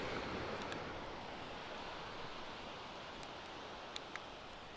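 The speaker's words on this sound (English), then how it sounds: "the sound of the waves will not be too distracting" Ocean waves roll as a steady, broad wash of surf noise throughout, with no distinct individual breakers, a constant soft roar heard alone without voices.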